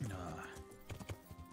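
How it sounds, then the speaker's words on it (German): Horse hooves clip-clopping while riding in Kingdom Come: Deliverance, a few soft uneven hoofbeats under someone talking, with a brief horse sound near the start. "Dann reiten wir doch mal hin und schauen nach."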